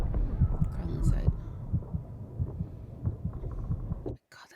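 A steady, low, muffled heartbeat thuds on under a rumbling dramatic score in a Black Sails episode, then cuts out abruptly near the end.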